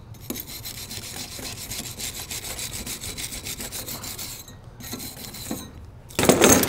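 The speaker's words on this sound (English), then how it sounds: "Once it's dried off, you can shine it up with a brush." A wire brush scrubs a cooled oxy-acetylene fusion weld in steady, rapid rasping strokes, close and fairly loud, with a brief pause before a final burst of scrubbing.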